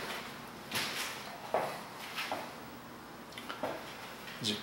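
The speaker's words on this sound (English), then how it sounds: "little pocket door." A small pocket door in a master bathroom of a three-bedroom rental home rolls along its track, giving a few soft sliding rumbles and light knocks at moderate distance in a quiet room.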